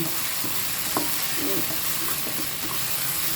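Catfish sizzles in a hot pan with holy basil and chilies, a loud, continuous fry hiss broken by faint scrapes and knocks of stirring.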